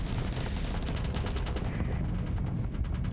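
Twin Vulcan cannons in the space combat game Starsector fire in dense, rapid bursts, a continuous rattling stream of close gunfire with no talk over it.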